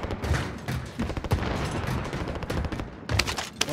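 Rapid bursts of Call of Duty: Warzone gunfire, dense and overlapping, with sharp cracks and short pauses between volleys.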